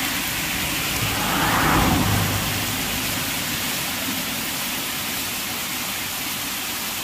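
A waterfall pours down a mountainside, a continuous broad rushing roar of water, close and steady throughout, with no voices over it.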